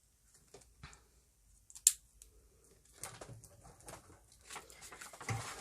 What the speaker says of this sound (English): it means I have to cut it a little bit below the line that I drew.